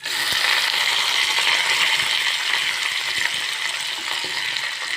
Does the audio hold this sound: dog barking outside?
no